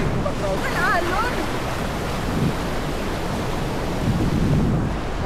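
Ocean surf washes steadily against the rock pools at Magpupungko Beach in Siargao, a continuous broadband roar with wind buffeting the microphone and a voice calling out briefly early on.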